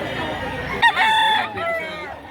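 A rooster crows loudly and close by at a chicken market in Lipa, Batangas, a drawn-out harmonic call over steady background noise.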